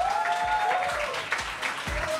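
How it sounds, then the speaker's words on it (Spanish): Audience applause for Lucas, the host's brother, at a Comedy Con live comedy show, steady crowd clapping filling the room with a whistle-like tone running over it. "Un aplauso a mi hermano, que encima ha venido a vernos."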